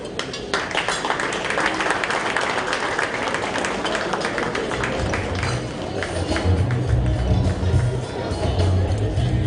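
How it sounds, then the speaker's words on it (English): Sustained applause from a large audience at the Africa Prosperity Champions Awards ceremony, dense steady clapping that fades slightly toward the end as a voice speaks over it. "A round of applause"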